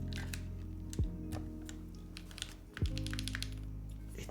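Keys clack on a Retro #66 mechanical keyboard in quick, uneven bursts of close, crisp clicks, with two heavier thuds standing out above a low steady hum.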